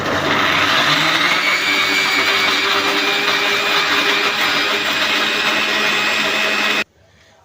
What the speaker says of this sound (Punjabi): ਤੇ ਲਓ ਜੀ ਇਹਨੂੰ ਕਰਦੇ ਆ ਹੁਣ ਮਿਕਸੀ